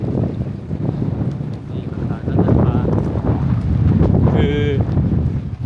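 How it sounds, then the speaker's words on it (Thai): Steady strong wind buffets the microphone in a low roar on a boat crossing between the Faroe Islands, the boat's motor churning nearby, with a brief whine near the end. "ลมแรงมากเลยนะครับ"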